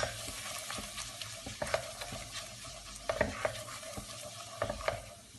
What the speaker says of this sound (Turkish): Bir müddet kavuracağım mısır unumu.